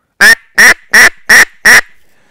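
Five loud, evenly spaced nasal quacks from a duck-hunting call imitating a duck, close up, with silence between each.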